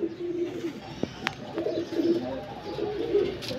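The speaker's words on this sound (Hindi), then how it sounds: "ले जी दोस्तों एक और टैडी पट्टा कबूतर आ गया जी" A Teddy patta pigeon, an 8-kali banded bird offered as a flying breed, gives soft low cooing in repeated throaty phrases, close by against a faint background with a few clicks and taps.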